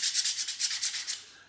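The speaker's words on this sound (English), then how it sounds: "So I'm gonna use a block and then just start sanding my piece back and forward" Rhythmic back-and-forth scrubbing of a sanding block on a wooden rainbow piece, about eight close, soft strokes that fade out, with no talking.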